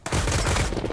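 Gunfire in the survival video game Mist Survival, where a sniper rifle is in use: a dense, loud stretch of rapid overlapping shots filling the whole second with no voices.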